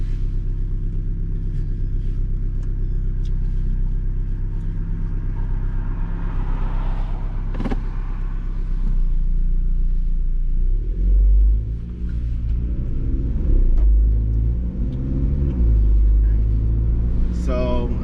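A 2017 Mini Cooper S (F56) engine with a JCW Pro exhaust fires up partway through and settles into a deep, throaty exhaust rumble close by, with a voice talking over it.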